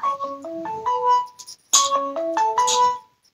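A phone ringtone plays a short descending melodic tune twice in quick succession, clear and fairly close, with no talking.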